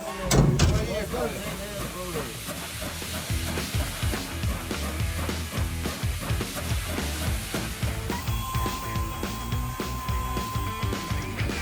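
Steady hissing steam from a narrow-gauge steam locomotive on the Haivoron line runs throughout with rhythmic chuffing and clanking, with a brief louder burst at the start.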